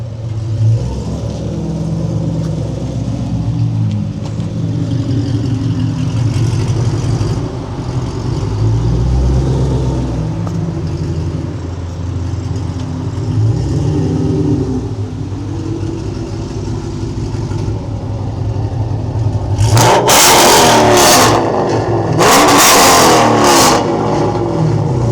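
Chrysler 300 SRT8 with an MBRP Hellcat-style cat-back exhaust, a steady loud deep idle rumble with small blips, then two sharp, hard revs near the end.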